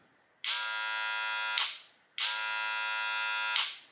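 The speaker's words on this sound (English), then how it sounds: "the Magiclip, the way it turns on, kind of reminds me of the old magnetic clipper sound when you first turn on" A Wahl Magic Clip hair clipper switches on twice with a sharp initial pop, buzzing in a steady, bright, close drone for about a second each time before cutting off, with no talking.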